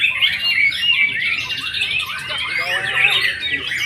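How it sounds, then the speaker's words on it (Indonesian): Caged white-rumped shama (murai batu) singing at a bird contest perch, a bright, continuous run of whistles, chirps and squawks, close and fairly loud. "Seperti murai batu yang sedang teman-teman saksikan di layar handphone ya."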